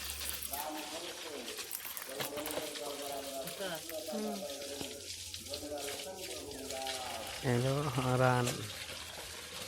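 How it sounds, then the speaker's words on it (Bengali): Frog meat being rinsed clean in water, with a steady wash of running water under continuous talk from a nearby voice. "এরপরে আমরা মাংসগুলো ভালো করে পরিষ্কার করে ধুয়ে নেব"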